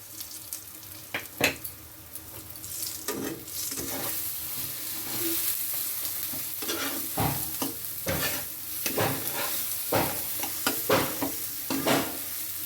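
A lentil filling for hing kachori being stirred and fried in a pan, with continuous close sizzling and scraping spatula strokes at an irregular rhythm, no talking.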